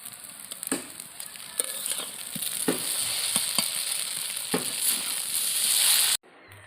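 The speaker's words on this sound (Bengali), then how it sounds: "আমি এর মধ্যে একটু জিরের গুঁড়ো দিয়ে দিলাম হালকা করে, দিয়ে একটু ঘেটে নামিয়ে নেব" Chowmein with a sprinkle of cumin powder sizzles loudly in a frying pan while a utensil scrapes and taps through it in irregular strokes, close up, before the sound cuts off abruptly near the end.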